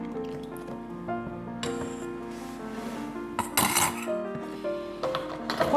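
A spoon working milk into a mashed potato mixture in a bowl: wet squishing and rubbing scrapes with a few metallic clinks, growing busier and brighter toward the end, close and without speech.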